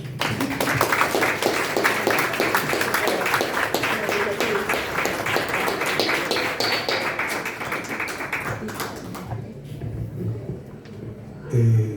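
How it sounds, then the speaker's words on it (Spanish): Audience applause at a Spanish-language presentation of a short story collection, a steady dense clapping lasting about nine seconds in a room, then fading to quiet with a brief voice at the end. "Un aplauso para Elmer"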